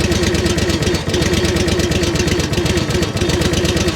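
A commercial log splitter's engine idles steadily in cold weather while it warms up, giving a loud, even mechanical putter with a constant rhythm throughout and no voices.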